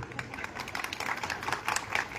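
An audience at a Republic Day lecture by an advocate breaks into scattered, fairly faint clapping, a loose patter of hand claps that grows slightly denser toward the end.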